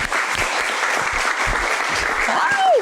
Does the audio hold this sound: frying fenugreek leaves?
no